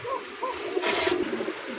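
Damascene pigeons, a red-eyed, short-beaked pair, give soft repeated coos close by, two brief calls early on under a steady hiss of room noise.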